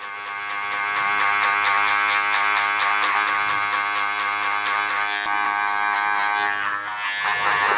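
Electric hair clippers with a guard attached buzz steadily and loudly through a barber's fade trim on a mullet, a sustained close-up hum with slight shifts as the clipper moves through the hair.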